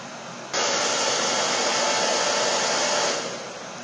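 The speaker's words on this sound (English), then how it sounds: "When everything is completely saturated in latex. And then blow dry again." A hair dryer blows steadily on a liquid latex prosthetic piece, switching on abruptly after a brief quiet start and running as a loud, close, constant airy roar that eases slightly toward the end.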